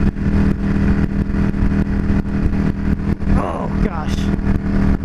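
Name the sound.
Yamaha V Star 650 motorcycle riding at highway speed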